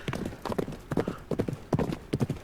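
Horses travelling along a path, hooves clip-clopping in a steady, loping rhythm of repeated clustered hoofbeats, fairly close and distinct with no voices over them.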